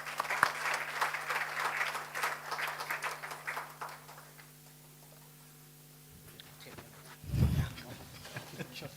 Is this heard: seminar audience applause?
yes